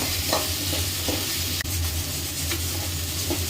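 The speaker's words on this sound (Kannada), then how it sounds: "ಒಂದು ಸ್ವಲ್ಪ ಕೈ ಆಡ್ಕೋತಾನೆ ಏನೈತಿ ಅದನ್ನು ಫ್ರೈ ಮಾಡ್ಕೊರಿ" Okra for a dhaba-style bhindi fry sizzles steadily in a pan while a spatula stirs and scrapes it in short, uneven strokes. The sound is close and continuous, with no talking.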